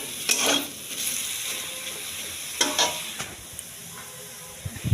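Eggplant frying in a pan on a home kitchen stove, a steady faint sizzle broken by stirring and a few clinks of utensil against the pan.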